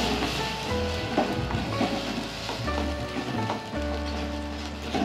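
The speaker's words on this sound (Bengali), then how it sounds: "এরপর আমরা তেলের মধ্যে দেব কালো জিরে এবং এর মধ্যে দেব লঙ্কা এবং যে পেস্টটি আমরা বানিয়েছিলাম সর্ষে, সেটা এর মধ্যে আমরা দিয়ে ভালো করে কষিয়ে নেব" Mustard paste frying in oil with nigella seeds and chilli crackles and sizzles steadily, patter-like and close, with a low rumbling hum underneath and scattered spits and pops.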